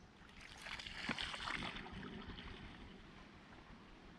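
Water rushes steadily into a container holding a dark, blackish mixture of watermelon-growing medicine, a broad splashing pour swelling early and then settling into a continuous wash.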